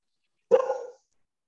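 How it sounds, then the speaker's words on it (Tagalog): A single short dog bark close by in a quiet room, one half-second burst with no other sound around it. "Tapos sumasabay pa yung aso ko, ano?"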